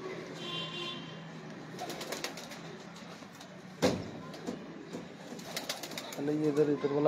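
Pigeons cooing in a loft, low throaty burbles near the start and again toward the end, with a sharp knock midway over steady background noise and traffic hum.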